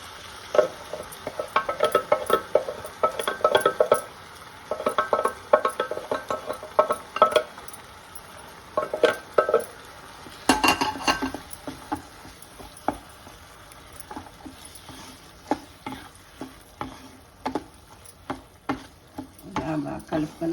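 Soaked, boiled chickpeas being stirred with masala in an oily pan, with repeated scraping and clinking strokes of a spoon against metal over a soft sizzle, coming in irregular bursts close up.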